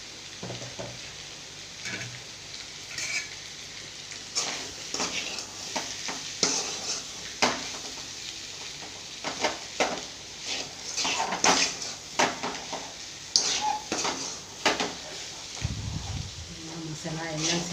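Potatoes with powdered salt and masala are stirred in a frying pan, with repeated scraping strokes and a gentle sizzle under a voice talking.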